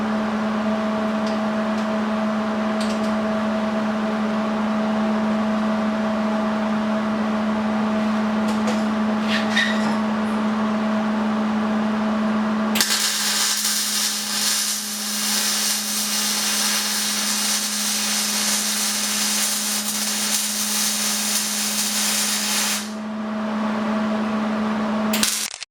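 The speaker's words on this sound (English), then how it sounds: "I'm going to start welding." A lower link bar for the rear 4-link on a Mazda B2200 pickup is welded. A steady machine hum runs throughout, and a continuous crackling hiss from the weld arc lasts about ten seconds in the middle.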